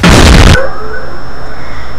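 A single loud explosion sound effect bursts out in the first half-second, then cuts to a long, quiet, hissing fade with no voices.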